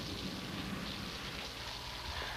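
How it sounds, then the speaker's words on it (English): Steady rainfall, a soft continuous hiss of drops pattering on a surface, fairly quiet and even throughout. "Rain."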